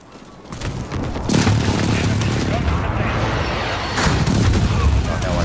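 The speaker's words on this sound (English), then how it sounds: "Enemy precision airstrike inbound, take cover." Heavy airstrike explosions from Call of Duty: Modern Warfare during a domination match at Suldal Harbor: loud, continuous booming and rumbling that swells after the first second and again near the end, with game voice and noise mixed in.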